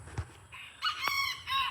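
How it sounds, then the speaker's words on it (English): A BB Red bantam game rooster crows close by, a short, strained, high-pitched call broken into a few segments after a brief cluck. "Those are called BB Red Bantam Game Roosters."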